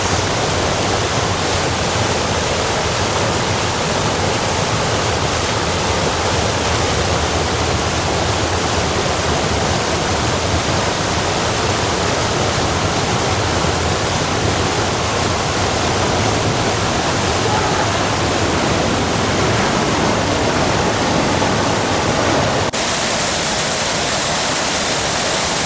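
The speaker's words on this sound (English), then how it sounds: "These multiple falls represent the Tennessee Valley Authority's dam building" Multiple falls of a memorial fountain at the Franklin Roosevelt Memorial give a steady, loud rush of cascading water that lasts throughout with no talk over it, and the sound changes slightly near the end.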